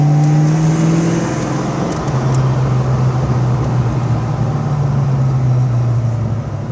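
Loud, close engine drone from a 1988 Mustang GT with 29,000 miles as it is pushed through a corner, the pitch easing after a shift and then holding a steady, sustained roar.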